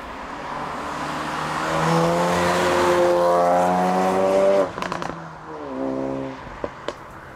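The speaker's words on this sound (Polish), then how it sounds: "rasowy dźwięk wydechu jest jedną z większych zalet tego modelu" A 2017 Ford Focus RS 2.3 EcoBoost exhaust in sport mode revs up in a rising, throaty drone, then crackles and pops as it lifts off, followed by another shorter rev and a few pops.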